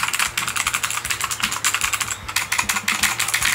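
Fast, steady typing on a SteelSeries Apex 5 gaming keyboard, with crisp, closely spaced key clicks and clacks heard up close with no voice.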